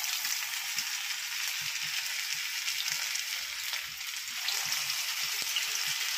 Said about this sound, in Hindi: मीडियम फ्लेम पर कोफ्तों को तलना है